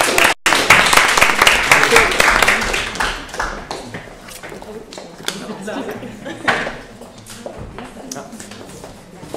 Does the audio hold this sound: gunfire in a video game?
no